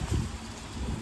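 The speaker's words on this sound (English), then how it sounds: "it's a little windy out here." Wind buffets the microphone outdoors on a gusty day in Chicago, a brief low rumbling roar lasting about a second.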